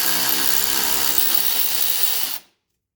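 An electric impact wrench loosening 19mm brake caliper bolts on a Mercedes W116 300SD: a loud, steady whirring rattle held near the mic for about two and a half seconds, then cutting off abruptly to silence.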